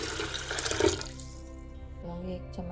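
Hot water pours into a pressure cooker holding chickpeas for a Lahori chana recipe, a steady splashing rush for about a second that fades as a voice speaks.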